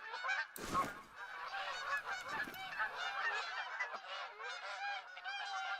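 Many geese in a flock honk steadily together, a thick chorus of overlapping calls with a brief louder burst near the start, holding at moderate distance throughout.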